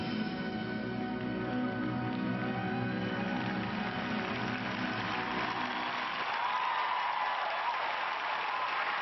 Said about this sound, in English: we can hear how the crowd feels about that performance by Takahiko Kozuka